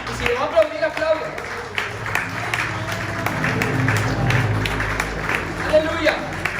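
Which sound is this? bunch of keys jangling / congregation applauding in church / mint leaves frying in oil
congregation applauding in church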